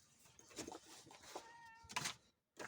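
A house cat named Phoebe meows a few times nearby indoors, a short series of plaintive calls with a brief pause near the end.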